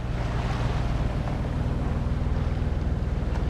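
A sailing boat running under engine off Fuerteventura in the Canary Islands gives a low, steady, pulsing motor throb, mixed with rushing water and wind buffeting close to the microphone.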